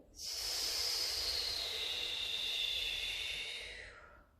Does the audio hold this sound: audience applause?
no